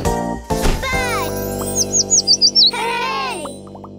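Cartoon bird chirping in a children's show: a quick run of five bright, looping tweets, loud and close, set between a child-like voice speaking before and after, with light musical tones underneath.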